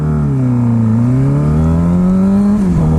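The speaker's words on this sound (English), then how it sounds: "I'm gonna race this Porsche to the white line." A motorcycle accelerates hard while racing a Porsche to a white line. The loud, close engine drone climbs steadily in pitch, then drops briefly as it shifts gear near the end.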